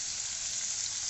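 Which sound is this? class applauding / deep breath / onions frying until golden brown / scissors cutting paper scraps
onions frying until golden brown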